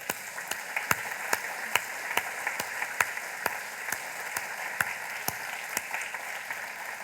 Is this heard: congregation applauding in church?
yes